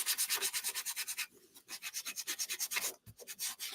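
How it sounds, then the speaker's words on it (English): Hand-sanding wood for a DIY mug hugger craft: a steady series of quick, rhythmic rasping back-and-forth strokes, close and clear, with one short pause partway through and no talking. "I always sand my wood,"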